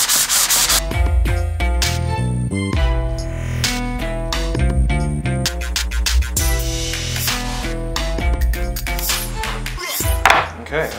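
Steady back-and-forth scrubbing of 320-grit sandpaper scuffing a sci-fi prop, a loud, close rasping rhythm with brief pauses between strokes and no talk.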